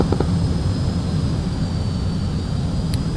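Jet engine roar from a fighter taking off at max dry power in the DCS flight simulator, a steady loud broadband rumble with no talk.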